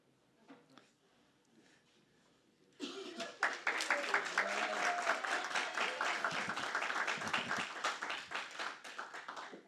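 Quiet murmuring first, then a candidate forum audience suddenly breaks into loud, dense applause that carries on steadily to the end, with a few voices underneath.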